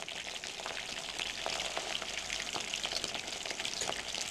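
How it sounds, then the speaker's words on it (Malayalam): Prawns dropped into hot oil fry with a steady, dense crackling sizzle that holds at an even level throughout, with small pops scattered through it and no voices. "നമ്മുടെ കൊഞ്ച് അകത്തേക്ക് എണ്ണയിലേക്ക് ഇട്ട് കൊടുത്തു."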